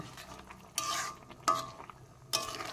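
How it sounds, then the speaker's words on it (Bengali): A utensil stirs fried small fish into boiling water in a pan, three short scraping bursts over a low bubbling background, close and fairly quiet. "এবার দিয়ে দেবো ভেজে রাখা মাছ। একটু মিশিয়ে নেব।"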